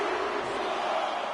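A video game arena crowd cheers and roars in WWE 2K25 during a Royal Rumble wrestling match, a dense, steady wash of massed voices throughout a short moment.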